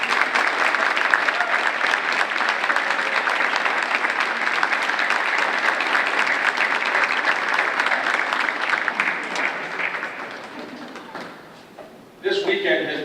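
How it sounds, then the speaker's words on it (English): Sustained audience applause honors previously inducted Hall of Fame members at a banquet, steady and full for about ten seconds before tapering off, followed by a voice speaking. "I'd love to give you a round of applause."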